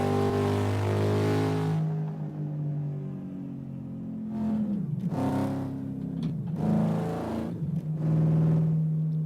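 Turbocharged car engine at full turbo in a racing game on a canyon course, a sustained droning whine that dips and rises again in two surges, loud and close with no talk.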